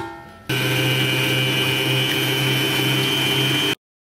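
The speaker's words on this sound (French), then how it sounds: "on fouette à vitesse moyenne" An electric mixer whisking egg whites for meringue at medium speed: a steady loud motor whine starts abruptly, holds constant for about three seconds with a whirring buzz, then cuts off to silence.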